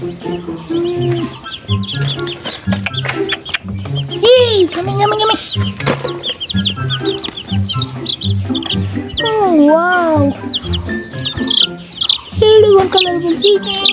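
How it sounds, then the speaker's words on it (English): Colorful chickens cluck and chirp close by in a busy, overlapping chorus, with rising squawks now and then and rhythmic background sounds throughout. "So beautiful colorful chicken."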